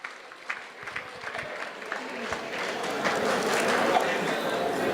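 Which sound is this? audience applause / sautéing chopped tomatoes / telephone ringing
audience applause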